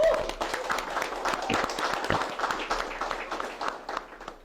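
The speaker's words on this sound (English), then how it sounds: "I think he deserves a clap" An interview audience claps for Emiliano Martinez, a dense, steady patter of many hands that carries on for several seconds with voices mixed in underneath.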